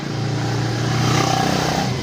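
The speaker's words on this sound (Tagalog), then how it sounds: "Itong motor na to sira na to." Faulty motorcycle engine with a dirty air filter and weak power, revving loudly and steadily up close for a couple of seconds with a rough, clattering edge.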